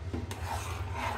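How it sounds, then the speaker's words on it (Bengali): Chana dal halwa being stirred in a pan, a faint, brief scraping rub of a spoon against the thick mixture, close with no talking. "এটা অনবরত নাড়তে হবে, তা নাহলে নিচে লেগে যাবে, দলা পেকে যাবে।"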